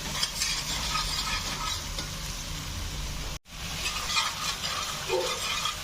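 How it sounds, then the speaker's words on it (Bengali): Spice paste for a raw banana kofta curry stir-fried in a pan, a dense hiss with continuous scraping of the spoon, near and steady, broken by one brief cut to silence partway through. "এখন ভালো করে মশলাটাকে কষিয়ে নেব।"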